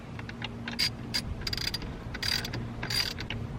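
A ratchet tightens the steering wheel bolt on a BMW F10 M5, giving short irregular bursts of close metallic clicking with brief pauses between the strokes.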